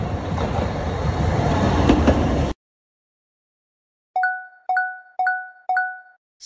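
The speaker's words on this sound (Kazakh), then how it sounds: "Бұл суретте трамвай бар." A tram rolls on rails with a loud rattling rumble for a couple of seconds, then stops abruptly; after a pause, four evenly spaced two-tone bell dings ring out clearly on their own.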